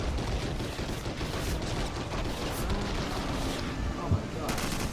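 Dense, continuous gunfire from Garry's Mod sandbox combat against zombies and enemies, a steady wash of shots and blasts filling the whole stretch at even loudness with no clear pauses.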